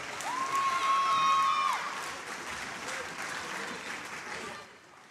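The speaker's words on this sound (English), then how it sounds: "Please give a round of applause for Mary Phillips." Applause and some cheering from a crowd at a high school wrestling quad meet, a fairly faint, sustained clatter of clapping with a brief whistle near the start, fading toward the end.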